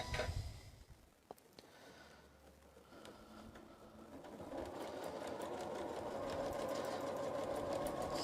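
A sewing machine doing free-motion quilting of feather plumes hums faintly and steadily, growing a little louder and denser toward the end, with a few light clicks near the start.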